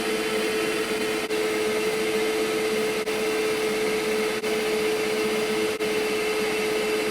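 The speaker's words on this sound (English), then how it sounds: "So I'm hoping I can kind of sneak the vacuum down in here, and maybe a little bit up here if I can fit it" A vacuum cleaner running inside a Porsche Cayenne during a repair, a steady loud whine with a constant tone, broken by a few faint brief clicks or bumps as the nozzle is worked into tight spaces.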